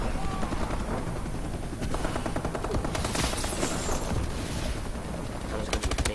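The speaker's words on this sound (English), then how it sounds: "Oh, I actually got a real missile strike" Rapid gunfire and explosive blasts from a missile strike in Call of Duty: Advanced Warfare, a dense, continuous barrage with a brighter burst in the middle and sharp cracks near the end.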